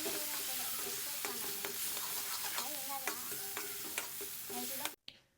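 A spoon scrapes and stirs a dry spice masala of chilli powder, garam masala, coriander powder and chaat masala for pani puri filling, with steady clinks and scrapes repeating close by until an abrupt stop.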